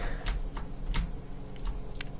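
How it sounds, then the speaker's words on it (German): Computer keyboard keys and mouse buttons click in a sparse, irregular patter of a few sharp taps close to the microphone, with a low steady hum beneath. "Übrigens entschuldige ich mich, wenn man meine Maustaste oder so hören kann."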